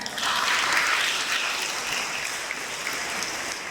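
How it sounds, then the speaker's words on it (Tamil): An audience claps at the inauguration of an interschool girls' netball tournament, a dense, steady burst of applause that stays full and even throughout before easing slightly. "நம்ம எல்லாரும் சேர்ந்து ஒரு கைத்தடிக்கலாம்ல."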